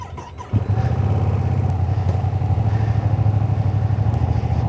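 Ducati Panigale V2S motorcycle engine, a steady deep twin-cylinder rumble that kicks in loudly after a brief quieter moment and holds a rough, pulsing drone close by.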